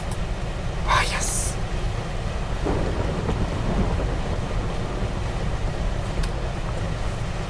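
Steady rain with a low rumble of thunder in the Minecraft video game, a constant hiss of falling rain that fills the whole stretch, with brief brighter crackles near the start.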